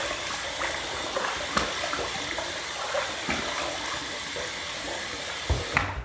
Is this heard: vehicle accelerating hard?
no